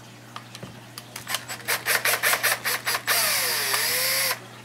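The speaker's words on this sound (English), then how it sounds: "I take the drill to it, put it on the torque setting that I need" Close power drill working on a TLR 5B RC car, a run of short rapid trigger bursts, then one sustained high whine that bends in pitch before stopping.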